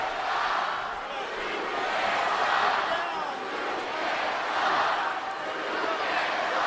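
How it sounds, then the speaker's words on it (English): A packed wrestling crowd at the Allstate Arena in Chicago roars during a WWE Monday Night RAW show, a loud continuous wash of cheering that swells and dips in waves, with a commentator talking over it. "Jacked up crowd tonight at the Allstate Arena in Chicago."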